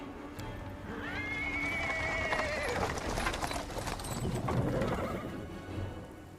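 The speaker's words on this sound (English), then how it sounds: "A cart drawn by a sad little horse appears from around the corner." A horse-drawn cart with a small horse rolls in over paving stones in the fantasy game Pathfinder: Wrath of the Righteous, with clopping hooves, rattling wheels and a drawn-out whinny over a low background hum.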